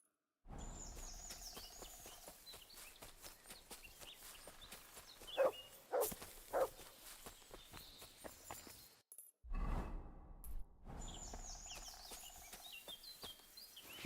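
Mutt the dog in Kingdom Come: Deliverance 2 gives three short barks, moderately distant, over an outdoor ambience with birds chirping and footsteps.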